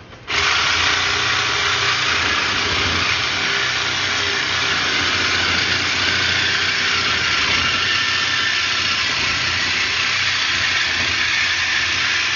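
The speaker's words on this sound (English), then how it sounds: "I wanted to demonstrate how easy it is to cut one of these guys out of a vehicle" A battery-powered saw cuts a catalytic converter out from under a vehicle, starting abruptly and then holding a loud, continuous, close grinding buzz with no pause.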